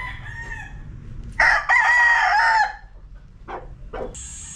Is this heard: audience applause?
no